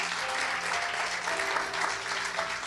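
A church congregation applauds the Lord in a sustained, dense wash of clapping that holds steady and loud from start to finish, with no voices standing out.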